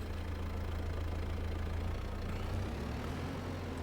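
A Kubota tractor engine in Farming Simulator 22 idles with a steady, loud, close mechanical rumble that holds unbroken throughout, with no voices.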